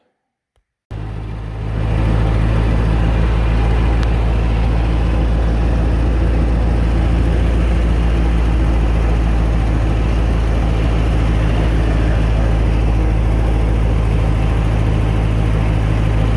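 An old Massey Ferguson TO35 tractor engine starts up and runs steadily on a test drive, a loud low throbbing drone that holds constant after a short silence.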